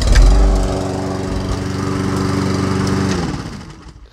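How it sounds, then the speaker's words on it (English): A Toro Personal Pace Recycler lawn mower catches on the first pull and runs with a steady, close, throaty engine drone for about three seconds before winding down. No one talks. "As you can see, first pull started right up."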